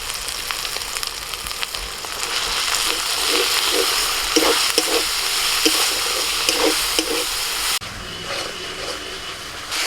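Spiced masala of tomato, slit green chillies, coriander, cumin, chilli and turmeric powders with salt, frying in a pan: a steady, loud sizzle and hiss with occasional stirring scrapes throughout.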